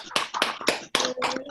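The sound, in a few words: audience applause for outgoing club president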